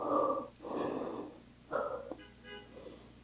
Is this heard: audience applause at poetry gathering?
no